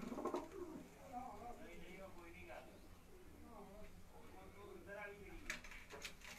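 Champion racing pigeons on a rooftop loft in Gujranwala coo in low, warbling rolls, quiet and slightly distant, with faint voices talking in the background.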